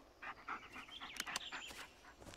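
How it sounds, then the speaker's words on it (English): A little dog pants in quick, breathy bursts close by, with short whimpery squeaks mixed in and no talk over it. "Can I pet the dog? Good dog."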